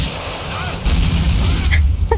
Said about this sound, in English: Can I use a rocket launcher?